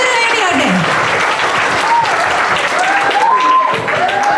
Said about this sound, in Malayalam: ഒരു നിറഞ്ഞ കൈയടി.